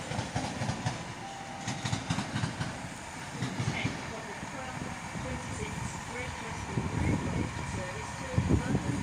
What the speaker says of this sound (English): arriving now, I believe, is the 1227 Great Western Railway service from London Paddington to Bristol Temple Meads